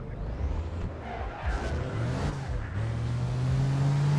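A vehicle engine in the game APB Reloaded, a loud, steady drone that rises in pitch as the car accelerates, close and continuous with whirring road noise underneath.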